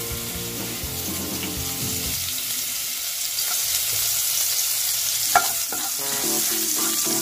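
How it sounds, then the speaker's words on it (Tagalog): Garlic frying in a pan for sisig of banana heart, a loud continuous sizzle close by, briefly mixed with faint talk at the start, then a few light clinks of a utensil. "lagay na natin ang bawang"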